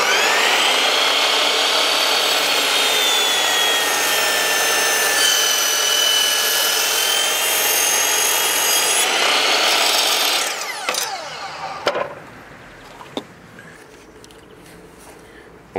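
A Bosch GCM 12 miter saw cuts through wood with a loud, steady high-pitched whine lasting about ten seconds, then spins down, followed by a few light clicks and knocks.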